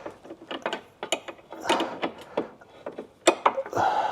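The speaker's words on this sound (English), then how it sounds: "Right, let's get that spanner back on." A spanner working a rear suspension bolt on a Subaru, with close metallic clicks, ratcheting taps and scraping in an irregular rhythm, some sharper knocks among them and no talk.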